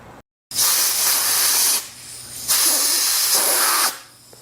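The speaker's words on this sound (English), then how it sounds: "let me connect the compressor and we'll explain you something." Compressed air blasts through a Shimano XT bike brake caliper, a loud close hiss in two long bursts with a short gap between, after a brief pause, no talk.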